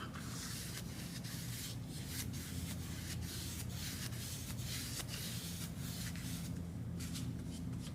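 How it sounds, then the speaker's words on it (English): A paintbrush wiped against a flour sack towel gives faint, repeated rubbing strokes in a steady rhythm, soft and close. "I'm just wiping the paint off of my brush onto that towel"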